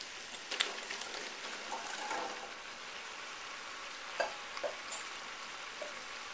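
Potatoes and carrots frying in a pan with softened vegetables, a steady soft sizzle and crackle with occasional sharper pops and clinks of stirring, close and fairly quiet.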